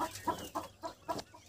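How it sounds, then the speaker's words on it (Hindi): Pigeons crowded in a dark village roost in the hills give soft, repeated cooing calls, about five rhythmic bursts, close and fairly quiet, with no talking. "बहुत सारे कबूतर हैं।"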